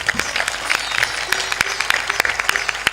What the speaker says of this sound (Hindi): थोड़ा जोर से ताली बजाया करो